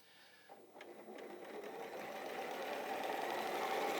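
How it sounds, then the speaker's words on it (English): A sewing machine runs steadily, stitching two quilt pieces right sides together at a quarter-inch seam, its motor hum building from a soft start to a continuous close whir with no talk. "You're going to now sew those 2 together, right sides together, and you're just going to put that into a 1/4 inch."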